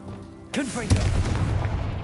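A Confringo blasting spell from a Hogwarts game bursts with a sudden boom and a swooping magical whoosh, followed by a deep rumbling explosion that lingers briefly.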